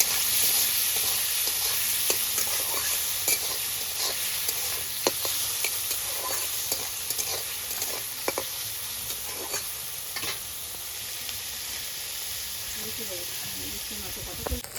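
Snails fry in a hot wok with salt and turmeric, giving a steady loud sizzle and hiss throughout, broken by frequent scraping clicks of stirring close to the pan.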